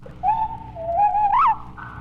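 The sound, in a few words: whippoorwill song slowed down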